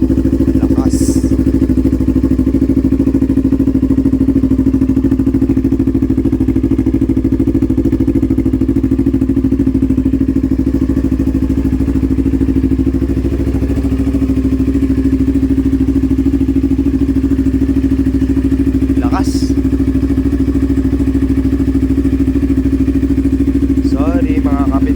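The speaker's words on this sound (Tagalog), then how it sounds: "So yun guys, pinainit lang natin yung NK400 natin." An NK400 motorcycle with an SC Project exhaust idles as it warms up, a loud close steady low rumble that holds an even throb for the whole stretch, with a few faint clicks and rattles.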